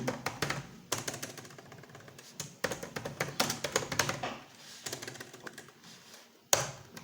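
Typing on a computer keyboard, close and busy, with fast runs of key clicks broken by short pauses and occasional louder taps.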